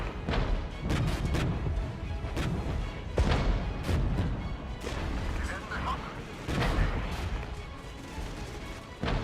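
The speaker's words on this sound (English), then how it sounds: "The counter battery action. Let's move up the mortars." Mortar and artillery fire in the military strategy game Regiments, a steady series of booming blasts and crashes of rough battlefield noise one after another.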